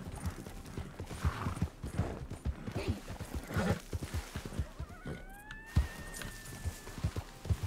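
A horse's hooves clip-clop steadily on the ground in the video game Red Dead Redemption 2, a close, rhythmic run of hoofbeats with a short whinny partway through.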